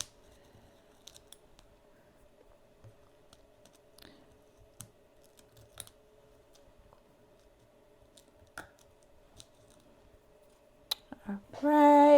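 Scissors make sparse, sharp snips and clicks while trimming sequin fabric around an embroidered appliqué letter, close and quiet over near-silence, with a voice starting at the very end.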